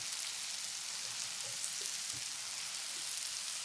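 Pieces of cut boiled egg frying in a pan with chilli powder and salt, giving a faint, steady sizzle with a few soft stirring taps, no voices.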